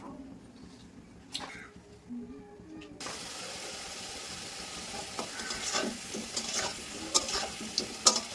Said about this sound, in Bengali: যেরকম কড়াইয়ে তেল দিয়ে দিলাম।